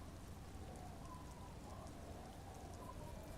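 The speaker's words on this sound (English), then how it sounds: "She looks at the rain streaming down the yellow belly of the boat." Steady rain streaming down the hull of a boat in the video game Disco Elysium, a constant, even patter of drops with a soft low rumble beneath and no voices.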